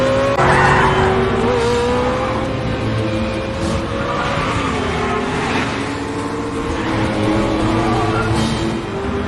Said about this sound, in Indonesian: Sekalipun killer menggunakan mobil sport, namun skill mengemudi James jauh di atasnya.